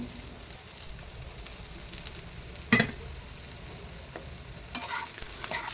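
Cooked capsicum egg rice being stirred in a hot pan, a soft steady sizzle with occasional scraping clatters of the spatula, one sharper knock midway, no voices.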